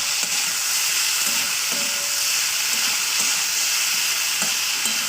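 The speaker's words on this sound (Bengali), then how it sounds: "এবার এটাকে ভালো করে আমি তেলের সঙ্গে ভেজে নেবো" Beans and new potatoes fry in hot oil, producing a loud, unbroken sizzle close by, with occasional stirring knocks and scrapes in the pan.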